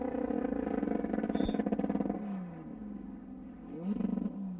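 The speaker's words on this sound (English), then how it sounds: "The engine sounds really mean." A race car engine on the Bonneville salt flats roars loud and close, its pitch climbing and then dropping sharply at two gear shifts before revving up again.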